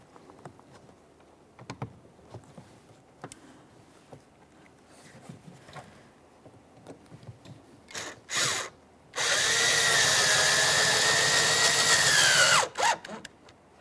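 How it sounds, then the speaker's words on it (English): A power drill drives a mounting screw into the plastic rear interior door panel of a 2012-2015 Honda Civic 1.8L L4, with a few short bursts before a loud, steady whir of about three seconds and then a brief final pulse. "right inside this area, we're going to install our mounting screw"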